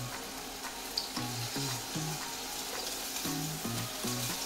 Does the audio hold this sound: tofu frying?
yes